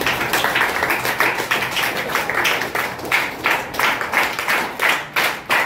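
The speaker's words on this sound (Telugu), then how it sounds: "చక్కటి ధ్యానానికి ఒకసారి చక్కగా క్లాప్స్ కొడదాం." A meditation group at the Sri Neelakanteswara Pyramid meditation hall in Guttur village, Dharmavaram, claps together after a session: brisk, continuous hand claps from many people, close and lively, with a few separate strong claps toward the end.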